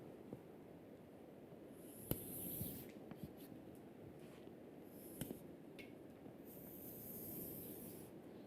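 Pen or chalk scratches and scribbles across a board while a lecturer sketches a diagram, a soft continuous rubbing with a few sharp taps, quiet and close in a hushed room.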